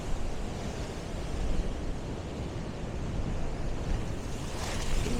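Rough ocean waves crash and splash against coastal rocks at Lynn, Massachusetts, a loud roaring surf with gusty wind noise buffeting the microphone throughout.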